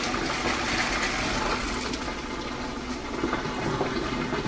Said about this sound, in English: Dump out all that water.